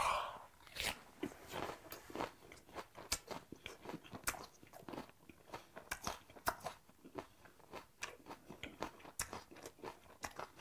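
Raw flower shrimp, three at a time, wrapped in crisp, sharp onion with chili, bitten and chewed close up: a steady run of wet, crunchy bites and chews with no talking.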